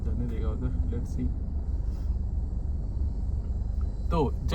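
Low, steady rumble of a Mercedes car driving, a constant engine and road drone from inside the cabin with someone speaking over it at times.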